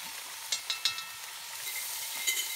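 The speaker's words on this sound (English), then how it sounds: "You hear the chicken starting to sizzle there as soon as it hits the cast iron." Canned chicken sizzles in a hot cast iron pan while cooking for tortilla soup, a steady bright hiss broken by a few sharp pops and crackles.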